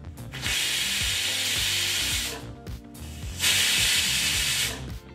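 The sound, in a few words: pressure cooker whistling while cooking masala rice bath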